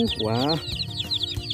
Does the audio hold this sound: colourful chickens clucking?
yes